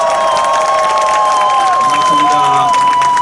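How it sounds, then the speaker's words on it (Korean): A large outdoor rally crowd in front of Sungnyemun applauds and cheers to welcome a speaker, loud and sustained. A steady tonal whine runs through it, and a voice can be heard over the noise. "큰 박수로 환영해 주십시오"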